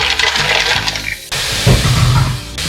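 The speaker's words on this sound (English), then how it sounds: "Now drop in the mussel." Mussels are dropped into a pan of sautéed leeks, onions and turmeric, giving clattering shell knocks and rattles followed by a bursting sizzle, with loud scraping and clinking close by.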